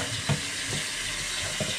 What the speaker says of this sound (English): So what we want to do first off is just run it through soap and water.